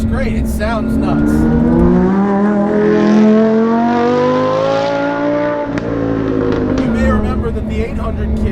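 A supercharged Lamborghini Huracan with a VF900 kit and VF exhaust pulls hard on a tight road, its engine note rising steadily in pitch under load, then dropping on a shift and climbing again, loud and close, with the driver talking over it.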